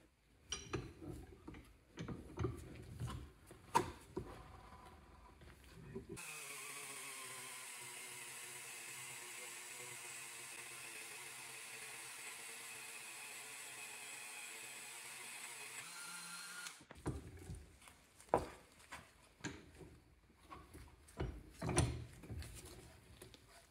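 Wire wheel cleaning a cast metal double-sided coin, a steady grinding whir lasting about ten seconds, set between stretches of faint clicks and handling noises.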